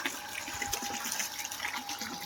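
Water from a motor pump pouring into a tank, a continuous splashing, gurgling stream heard close up with no talking.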